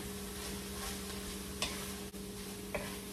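Sliced onion frying in a pan while cooking Hawaiian kalua pork with cabbage, a steady close sizzle with a few sharp stirring taps and clicks, no talking.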